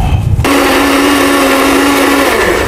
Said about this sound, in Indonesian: nanti saya coba blender dulu ya